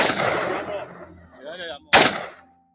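Gunfire in filmed footage of men firing into bodies. Two loud, sharp blasts ring out, one at the start and another near the end, each with a decaying echo, and faint voices fall between them.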